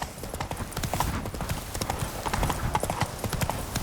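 Roach, a horse in The Witcher 3, cantering along a road, rhythmic hoofbeat clip-clops in a steady three-beat pattern, close and continuous under faint background ambience.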